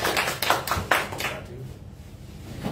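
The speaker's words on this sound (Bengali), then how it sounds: "সর্বপ্রথমে খোকনকে আমি করতালির মাধ্যমে অভিনন্দন জানাই" A crowd at a political discussion meeting in Bangladesh applauds to congratulate Mahbubuddin Khokon: a short burst of scattered hand claps that quickly thins out and fades into room noise.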